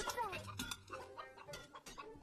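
Animated chickens cluck busily while being fed grain, a cluster of short overlapping clucks and bird calls running continuously under a layer of background music.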